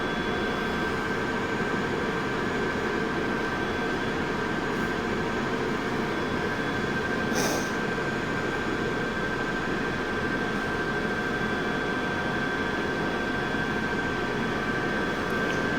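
A London Underground Piccadilly line train idles at Heathrow Terminal 4 with a steady, even mechanical hum and hiss, unbroken throughout, and one brief higher squeal or hiss partway through.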